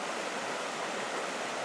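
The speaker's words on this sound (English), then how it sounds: "Hey, it looks like there's a rapid down here. Let's check it out. There's a little falls over here." A small waterfall and rapid on Yellow Creek in Graham, North Carolina give off a steady, dense rushing hiss of tumbling water, even and unbroken throughout.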